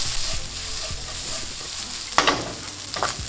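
Chimichurri rice being stirred in a hot pan, a soft continuous sizzle with a few scraping strokes and a louder clatter near the end, heard close with no voices.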